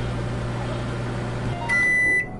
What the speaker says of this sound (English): let me get a shot of the microwave running